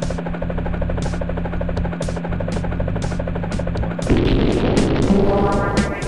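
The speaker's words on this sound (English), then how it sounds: "There goes my helicopter." A buzzing, droning helicopter engine from the video game Speedy Eggbert, loud and steady with a rhythmic pulse, shifting into a denser, noisier roar partway through, with no talking.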